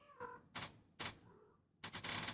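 A pet cat gives one short meow, followed by several sharp, clattering bursts of noise close by.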